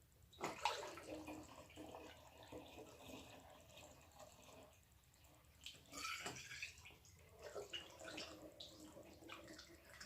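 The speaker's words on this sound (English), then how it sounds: "And you just want to add water just over what's called the shoulder of the bottle" Water added to a bottle for homemade winemaking, faint gurgling and splashing in short bursts with pauses between, close and quiet.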